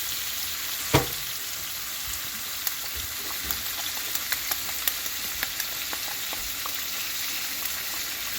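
Beef and broccoli frying steadily in a hot pan after a splash of fish sauce, a continuous soft sizzle with a sharp crackle near the start and small pops scattered throughout, no voices.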